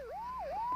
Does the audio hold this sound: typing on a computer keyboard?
no